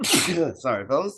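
A single sharp sneeze bursts out at the start during a casual podcast recording, followed right away by someone speaking.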